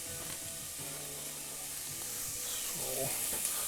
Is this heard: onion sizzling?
yes